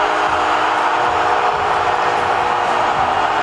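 A stadium crowd of 73,000 roars after Franco Escobar's tap-in goal in a football match. The loud, dense wall of cheering holds steady and unbroken, with no single voice standing out.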